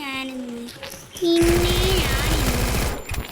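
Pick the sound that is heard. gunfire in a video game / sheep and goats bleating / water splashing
gunfire in a video game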